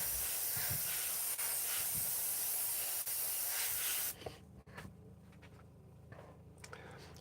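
Airbrush spraying thinned paint onto vintage sign lettering cutouts, a steady loud hiss for about four seconds that cuts off abruptly, leaving quieter room noise and small handling sounds.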